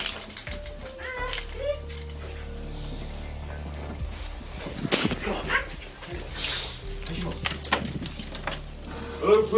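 A pet dog barks and whimpers indoors at a home during a police visit, short yelps and whines scattered through a busy room under people talking.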